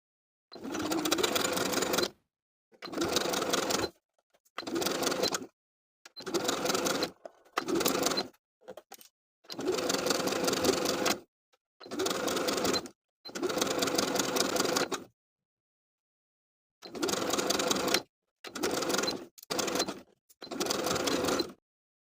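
A sewing machine stitches a zigzag along the raw edge of bralette fabric in repeated bursts of fast mechanical rattling, close and loud, each run lasting one to three seconds and separated by short silent pauses.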